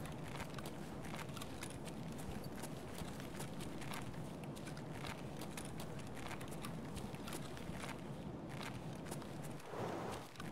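Footsteps on stairs in the video game Escape From Tarkov, a fast series of quiet thuds and scuffs spread across the clip, faint under a steady background hiss with no talking.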